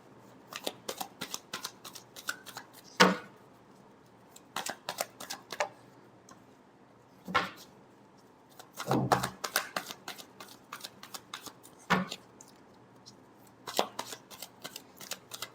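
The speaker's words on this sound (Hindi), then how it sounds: "Last shuffle." Tarot cards being shuffled by hand, repeated quick riffling bursts in irregular clusters with short pauses between, close and crisp in a quiet room.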